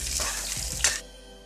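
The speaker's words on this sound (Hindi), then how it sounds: "इसके बाद डालेंगे इसमें प्याज और इसको भी इसके साथ हम भून लेंगे" Chopped onions hit a pan with ginger pieces while cooking potatoes with garlic and coriander. A brief hiss and clatter is followed by a short sizzle that fades into quiet.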